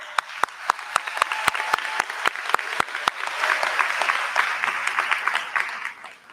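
Parents are applauded by a high school graduation audience, with loud, evenly spaced claps from one nearby person at the start, then dense crowd clapping that builds and holds.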